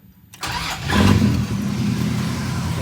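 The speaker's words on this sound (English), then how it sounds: "start your car" A 1970s Dodge Dart or Duster engine cranks and catches after a brief silence, then settles into a loud, steady idle close to the microphone.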